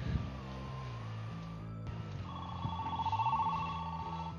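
A telephone rings in electronic trilling bursts over a droning, musical game backdrop, fairly loud and without talk.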